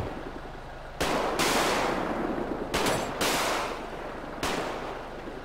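Bursts of gunfire from a suspect in the video game GTA 5, a few loud, close volleys with sharp onsets and decaying rumbles, heard without talk.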